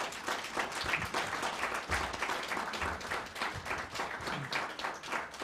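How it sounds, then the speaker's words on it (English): Audience at a medical class golden anniversary gathering giving a professor sustained applause, dense continuous clapping with slight swells, moderately distant and without talk. "I think we should applaud you."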